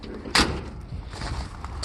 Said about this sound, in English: Door actually closed decent.